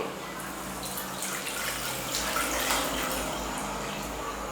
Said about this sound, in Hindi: तो अब हमें इसके अंदर पानी डाल देना है।